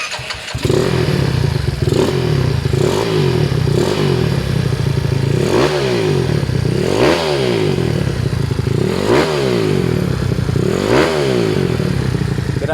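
A Yamaha Nouvo 170cc scooter with its manifold cover off starts up and revs hard in close, loud, rhythmic bursts, each rising to a rasping peak then dropping back to a clattering idle, about six cycles in a row.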